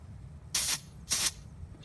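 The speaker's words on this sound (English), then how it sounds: "Spray a little bit of smoke in there." Canned test smoke sprays into a home smoke detector in two short, close hissing bursts about half a second apart, alone in a quiet room.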